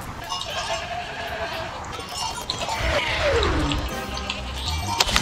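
A bleating goat in Plants vs. Zombies Garden Warfare 2, the delivery goat, sounds over busy game noise, with a drawn-out falling bleat in the middle and thumps and clatter around it.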